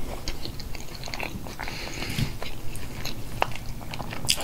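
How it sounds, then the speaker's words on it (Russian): Close, crisp crunching as potatoes fried in pork fat with garlic and onion are bitten and chewed, with irregular crackly bites and no talking. "Картошечка хрустит просто."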